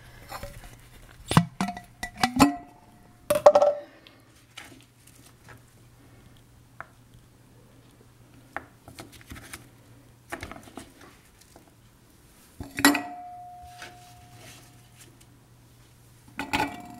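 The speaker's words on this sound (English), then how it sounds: "take those chopped up turnips and put them into the jar" Chopped turnips dropped into a glass jar: a few soft, wet patters and clinks in short clusters, close and fairly quiet against a low steady hum, with long pauses between.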